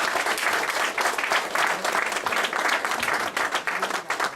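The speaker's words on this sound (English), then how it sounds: "a huge round of applause for the mentors" An audience applauds the mentors at a pitch event with a dense, sustained burst of clapping that stays loud and even throughout.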